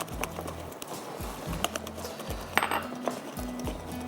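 Chickpea biscuit dough is stirred in a bowl, giving soft repeated scraping and clinking of a spoon against the dish in an uneven rhythm, close and moderately quiet, with no talk.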